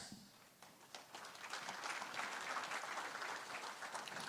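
Audience applause for a contestant at a livestock auctioneer championship interview round, dense clapping that starts sparse and swells into steady, moderately distant applause lasting several seconds.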